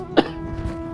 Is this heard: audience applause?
no